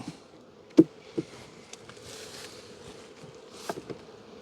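Honey bees at an open hive during a spring inspection, a low, steady, faint buzzing hum with a few soft knocks and clicks from handling the frames.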